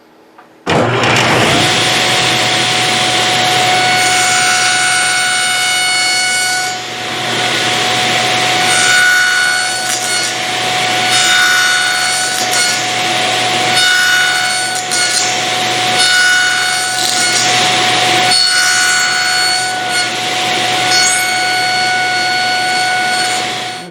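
A saw cuts the cheeks of wooden tenons in a long, loud, continuous run, its steady whine dipping briefly at a few points before stopping at the end.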